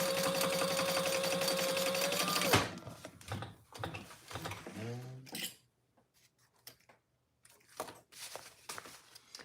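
A sewing machine stitches a trifold wallet in a steady rapid whirring run for over two seconds, then stops, followed by faint clicks and handling noises with quiet gaps.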